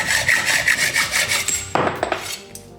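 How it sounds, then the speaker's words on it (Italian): A hacksaw cuts through an aluminium mountain bike fork steerer tube in steady, rhythmic back-and-forth strokes, loud and close, with a rasping scrape that eases toward the end. "Prendiamo la nostra sega e cominciamo a tagliare tranquillamente, perché è alluminio, quindi basta una sega da ferro normalissima."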